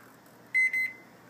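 A microwave oven keypad gives two close, clear electronic beeps in quick succession as a 30-second run is entered and started, over a faint, quiet room background.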